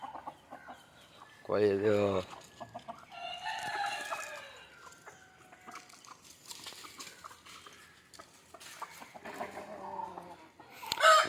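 Native country chickens cluck and a rooster crows as their coop is opened, in a loose run of calls, one loud crow burst near the start and scattered clucks after, with a voice speaking briefly.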